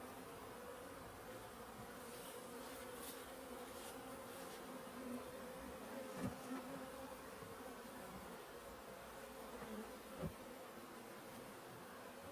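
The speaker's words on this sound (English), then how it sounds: "all these bees flying around here, they'll figure out where their hive is." Honey bees fly around beehives in a steady, faint, close buzzing drone, with individual bees swelling louder now and then as they pass near, and no voices.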